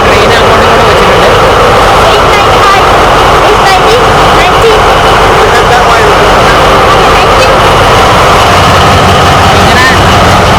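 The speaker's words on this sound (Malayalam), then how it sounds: "ഇങ്ങനെ എഞ്ചിന്റെ സൗണ്ട് ഒരു രക്ഷയില്ല കേട്ടോ, ഭയങ്കര സൗണ്ടിലാണ്." An Etihad Rail diesel train engine idling: a loud, continuous, droning rumble fills the whole stretch, with people talking over it.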